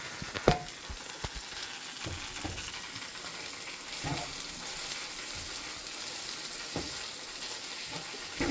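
Blueberry scrambled eggs cook in a preheated cast iron pan with a soft, continuous sizzle, broken by occasional light scrapes and clicks of stirring.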